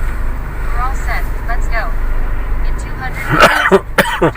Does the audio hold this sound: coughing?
yes